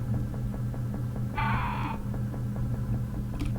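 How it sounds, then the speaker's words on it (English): A single harsh crow caw rings out in the game Fear and Hunger 2: Termina, short and fairly close over a low steady droning hum. "There's that fucking crow noise again, man."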